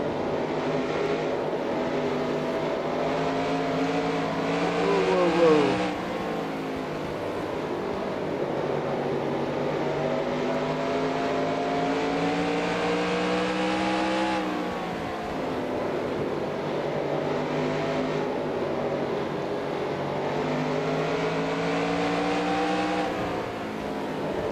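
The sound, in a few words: NASCAR race car engines in NASCAR Racing 2003 video game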